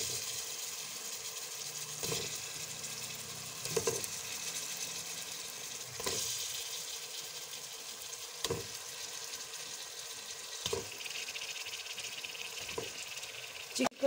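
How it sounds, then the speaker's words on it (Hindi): Chicken sizzles in a pan with garlic-ginger paste and onions as a soft, steady frying hiss, with a few clanks of stirring now and then. "लहसुन अदरक का पेस्ट प्याज के साथ फ्राई हो गया। अब मैं इसमें चिकन डाल दूंगी।"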